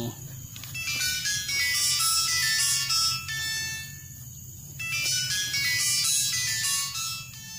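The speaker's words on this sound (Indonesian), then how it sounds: "kita angkat lagi teleponnya" A mobile phone rings with an incoming call, its bright electronic melody repeating loudly in two long bursts with a short pause between them.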